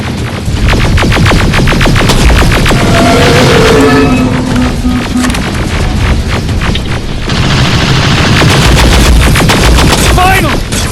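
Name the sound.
gunfire in a video game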